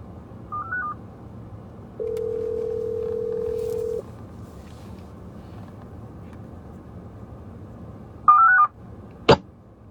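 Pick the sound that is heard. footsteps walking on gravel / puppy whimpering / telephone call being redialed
telephone call being redialed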